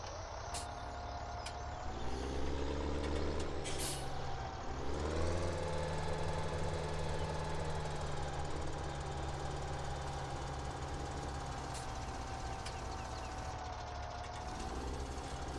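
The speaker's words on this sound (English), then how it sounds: "Let me go find my tractor here." A tractor engine in Farming Simulator 17 runs at a steady drone with heavy low rumble and a rising-and-falling tone as it revs, continuous and fairly close.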